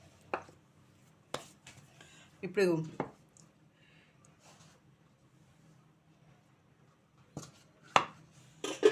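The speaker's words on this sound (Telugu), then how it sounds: "ఇదే రోట్లో వేసి నేను కచ్చపచ్చగా దంచుతానమాట" Coarse pounding in a stone mortar while making an amla and green chilli pickle: a handful of sharp, separate thuds spaced several seconds apart, with a person talking between strikes.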